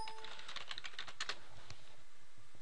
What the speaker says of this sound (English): We type in whatever your username and password is.